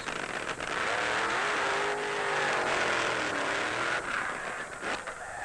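A supercharged nitro-fuel drag racing funny car engine at the 1972 NHRA World Finals in Amarillo, Texas, roars loudly and steadily with a rising, sweeping pitch, close and continuous.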